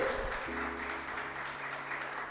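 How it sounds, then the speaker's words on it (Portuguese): A church congregation applauds during a worship service, a steady wash of clapping that continues unbroken over low sustained tones. "Agora eu quero que você aplaude ao Senhor comigo"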